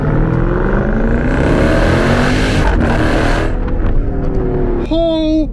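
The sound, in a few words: Jeep Trackhawk supercharged V8 accelerating in a hard pull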